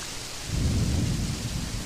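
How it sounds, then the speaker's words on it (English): In the video game Fantasy Maiden Wars, a deep thunder rumble swells under a steady hiss of falling rain, with a continuous stormy wash and no voices. "Thunderstorms, raining."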